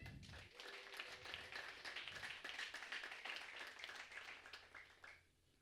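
Congregation at an Ethiopian church service applauding together for Jesus, a dense, steady burst of many hands clapping that carries on for several seconds before stopping abruptly.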